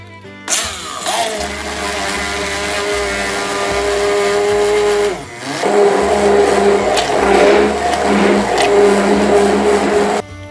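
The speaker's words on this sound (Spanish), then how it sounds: "lo que vamos a hacer es simplemente pasarlo por la batidora." A hand blender purees a chickpea stew with spinach and desalted cod: a loud, steady whirring motor runs for several seconds, drops off briefly, then revs again until it cuts out.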